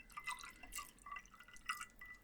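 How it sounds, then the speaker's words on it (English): Apple cider pours over bourbon and ice in a glass, a quiet trickling with small splashes and clinks that come in short bursts, close and faint. "There, add some apple cider."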